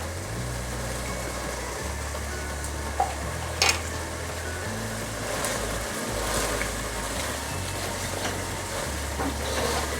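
Mutton karahi cooking in a pan, a continuous loud sizzle with a couple of sharp utensil knocks, over a low, shifting hum.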